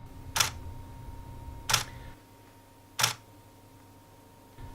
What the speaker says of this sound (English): Here's what shooting in standard single frame mode sounds like.